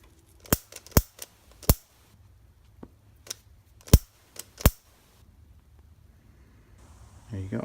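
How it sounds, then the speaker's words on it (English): Scissors trimming extra 550 paracord, with about half a dozen sharp, crisp snips spaced irregularly, close and clear against near silence. "You see this extra bit of 550 cord? I'm going to trim that off as well."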